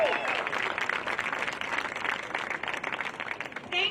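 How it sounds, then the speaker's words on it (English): A crowd at a high school football senior night clapping steadily, a sustained wash of applause with a few scattered claps standing out near the end. "Please join me and give another round of applause for these outstanding seniors."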